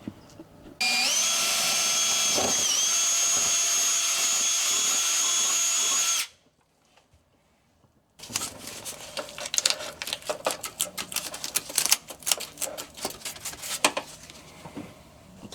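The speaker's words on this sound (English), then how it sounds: "let's get drilling" A power drill bores a hole into a car's wheel well for hydraulic handbrake lines, whining steadily and loudly for several seconds, falling silent briefly, then followed by irregular clattering and scraping.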